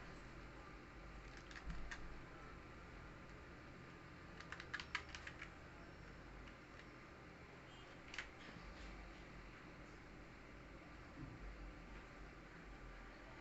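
Typing on a computer keyboard while filling in an office appointment letter, a faint, steady patter of keystrokes with a few sharper clicks, under a constant low hiss.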